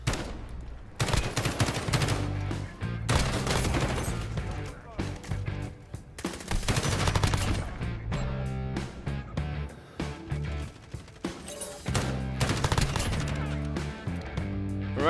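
Kilo 141 assault rifle gunfire in a Call of Duty-style shooter game, with loud bursts of steady, moderately slow automatic fire repeating in waves, mixed with game sounds and music.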